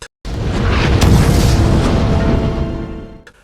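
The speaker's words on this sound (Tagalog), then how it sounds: "muling bumuhos ang pamilyar na pagbobomba ng German artillery" A heavy, sustained rumbling blast of German artillery shelling that roars for about three seconds before fading, loud and close with no voices.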